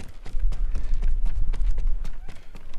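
Horse hooves clopping at a run in the video game Ghost of Tsushima, a steady rapid rhythm of muffled thuds mixed with game sounds, close and fairly loud throughout.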